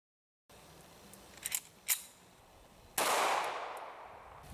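Rifle shots at a range strike a Ruwac range vacuum housing: a few sharp cracks, then one loud blast with a long fading ring.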